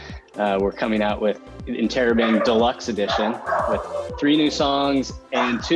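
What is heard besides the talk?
dog barking in the background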